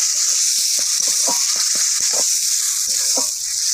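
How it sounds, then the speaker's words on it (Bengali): Bean and potato mash with spices being stirred in a pan, a steady close sizzling hiss with a run of short soft scraping strokes from the spoon, no talking. "এতে একটু নেড়ে চেড়ে নেবো।"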